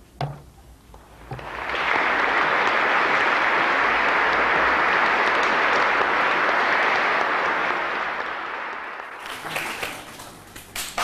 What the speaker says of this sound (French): les applaudissements au niveau des images et des applaudissements ici aussi dans le studio